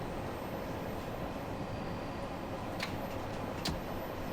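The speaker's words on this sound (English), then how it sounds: "so at 35 I'm just gonna let it coast so that the train will" London Underground Bakerloo Line train coasting downhill in Train Sim World 2: a steady, continuous rolling rumble of the carriages on track, with two brief high squeals near the end and no talk.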